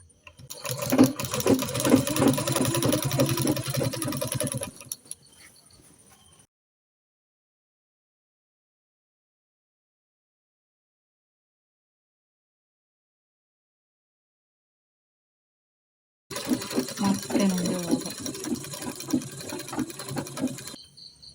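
A sewing machine runs in two bursts of rapid, rhythmic stitching along the folded hem of a jilbab prayer dress, close and clear, separated by a long stretch of silence.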